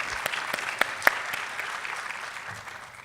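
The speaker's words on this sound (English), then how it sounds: "Let's give her a round of applause." An audience at a 2019 Black History program applauds, a steady wash of clapping with a few sharper claps standing out, heard at a moderate distance without speech.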